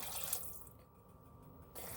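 A cup of water pours into a pot of simmering pinto beans, a steady close splashing stream that starts and stops, with no speech.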